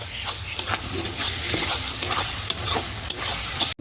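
Chicken fries in a pan with garlic and ginger as it is stirred, giving a close steady sizzle broken by repeated scraping strokes of the spoon.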